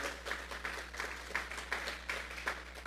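A church congregation claps in unison as an offering to God, producing a steady, even rhythm of crowd claps about three per second, moderately distant over a low hum.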